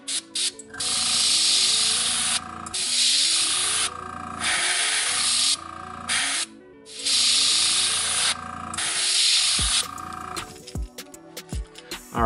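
Airbrush spraying paint along the edge of a stencil on a crankbait: repeated loud bursts of hissing air, each lasting a second or two with short gaps between, then a run of small clicks and handling knocks near the end.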